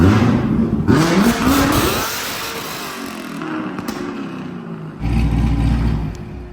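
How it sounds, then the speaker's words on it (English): A Z06 Corvette engine revs hard during a clutch-kick launch, roaring loudly before easing to a rough idle, then surging back to a heavy, close roar. "Try to do just one more clutch kick on this diff"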